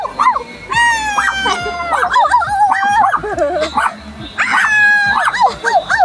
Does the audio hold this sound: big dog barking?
yes